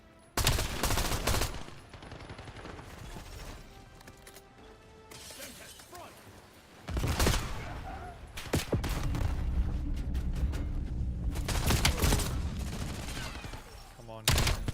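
Gunfire in Call of Duty: Black Ops 7 multiplayer, loud bursts of rapid shots with sharp cracks and a brief lull midway, then sustained firing resumes near and loud.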